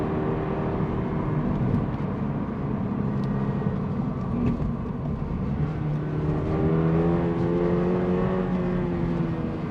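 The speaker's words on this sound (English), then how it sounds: "Let's really rev it out and push it on a little bit more." A Toyota GR86 sports car engine revs hard on a drive, its tone climbing and sweeping through the gears in a steady loud drone with rising pitch toward the end.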